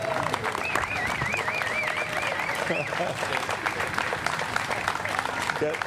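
Standing applause at a Legends Plaza ceremony, a crowd clapping steadily at moderate distance, with a person speaking and a whistle-like warbling tone rising over the clapping early on.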